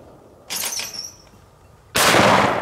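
Shots fired at a target at a shooting station: two sharp loud bangs about a second and a half apart, the second one stronger and longer-ringing, heard up close with no talking.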